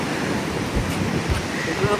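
Steady, roaring wind buffets the microphone with a broad rushing noise and occasional low gusts, continuous throughout.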